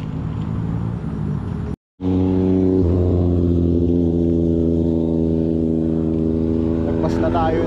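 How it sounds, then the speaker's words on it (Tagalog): Steady engine roar from passing motorcycles on a road, loud and continuous, with one brief dropout and a rising rev near the end. "dami pang motor ang ingay."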